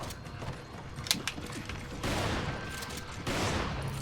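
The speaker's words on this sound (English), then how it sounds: "I love shotguns in this game." Shotgun fire in the video game Resident Evil 5, sharp blasts with mechanical pump clatter amid dense gameplay noise, loud and close.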